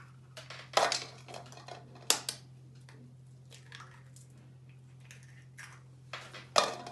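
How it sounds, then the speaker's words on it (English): Eggs cracked against a bowl while baking fruit scones, with several sharp taps and knocks on the bowl, wet squishy drips between them, close and fairly loud against a low background hum. "we're going to crack our eggs into a bowl"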